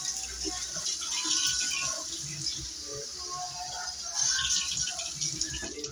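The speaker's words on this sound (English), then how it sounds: "Last ingredient is water, and just tap water, room temperature." Room-temperature tap water runs steadily from a kitchen faucet while pizza dough is being made at home, a continuous hiss with faint clatter and rattles.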